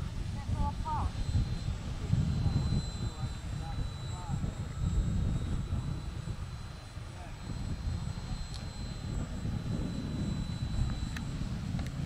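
Ben Buckle RC model airplane engine droning steadily in flight, a continuous buzzing hum at moderate distance, with people talking nearby.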